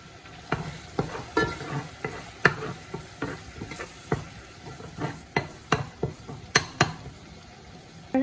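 Green chillies and chilli powder sizzle softly in a pan for tomato fish curry while a spatula scrapes and stirs in a steady, uneven rhythm of sharp clicks.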